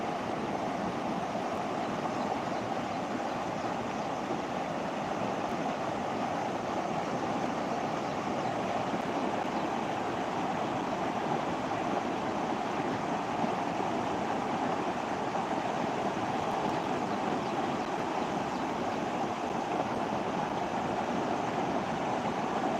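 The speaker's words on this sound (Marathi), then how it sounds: "पाणी वाढायला लागलं मित्रांनो" Floodwater rising and rushing after heavy rain: a continuous, even roar of flowing water, steady and unbroken, with no voices over it.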